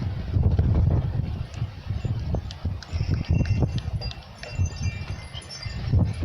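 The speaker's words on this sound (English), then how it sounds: "the wind blowing" Gusty wind buffets the microphone outdoors during an oil change on a 2003 Chrysler PT Cruiser, rumbling low in uneven bursts with faint scattered clicks and knocks.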